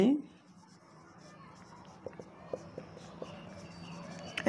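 A pen scratches out a math equation on paper, close and quiet, with soft strokes and a few taps under a teacher's low speech.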